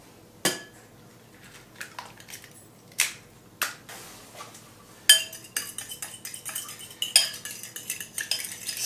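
Eggs beaten for a batter (liaison) for turkey schnitzels, a utensil clinking and scraping against a bowl in quick irregular strokes, sparse at first and then a steady busy rhythm, close and fairly quiet.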